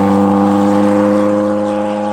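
Renault R5 Turbo 2 turbo engine pulling hard, a loud, steady, droning engine note with strong layered tones held close throughout, no voices.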